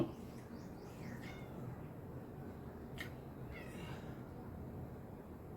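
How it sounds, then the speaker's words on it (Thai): A cat gives a few faint, thin meows over a low background hiss, with short chirpy calls spread across the stretch and a soft sharp tap in the middle. "น้องเหมียวมันเมียวเหมียว"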